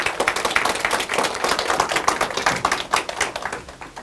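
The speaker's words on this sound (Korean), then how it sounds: "다시 한번 큰 박수 부탁드리겠습니다" Lecture hall audience at an integrity-education lecture contest in a large auditorium breaks into sustained, dense applause, many hands clapping steadily and close for the full stretch.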